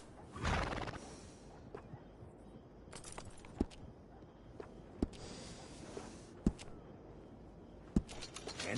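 A horse whinnies in Red Dead Redemption 2, one loud neigh near the start, followed by scattered sharp clicks and thuds against a low game ambience.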